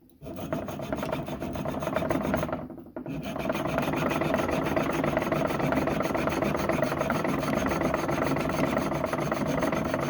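Junior hacksaw cutting a thick piece of pewter, a close, continuous rasping stroke that pauses briefly and then resumes steadily.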